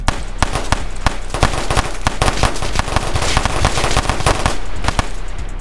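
Gunfire in the Roblox game Chicago Wars crackles in rapid, dense bursts of loud shots, nearly continuous over a constant background with no pauses.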